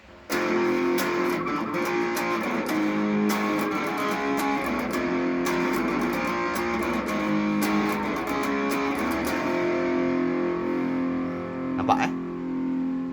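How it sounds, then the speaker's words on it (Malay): A distorted electric guitar with drive plays thick, sustained power chords, loud and close with a buzzing, gritty tone that rings out steadily with occasional string noise. "Nampak itulah dia power chord."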